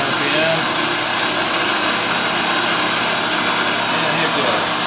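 A Prototrak CNC bed mill (TRM Trak with MX2 control) runs its spindle at speed, giving a steady, loud broadband whir and hum that holds without a break.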